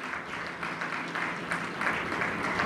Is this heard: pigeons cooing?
no